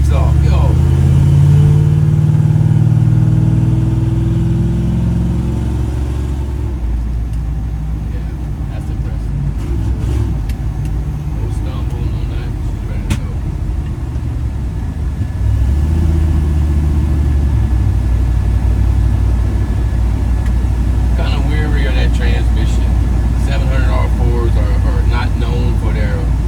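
A 1952 Chevy truck fitted with Aces fuel injection pulls away, its engine note loud and close, swelling then settling into a steady drone with road rumble as it accelerates, while someone talks over it.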